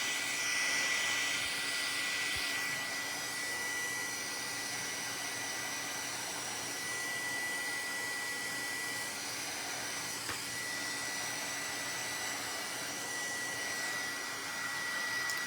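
A heat tool blows steadily while heat-setting embossing powder, a constant even whoosh with a faint high whine, fairly quiet and uninterrupted throughout.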